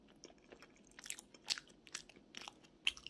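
Someone chews sticky rice sweet potato bread close to the mic, with soft, moist bites and a few crisper crunchy accents spread over a few seconds in a quiet room.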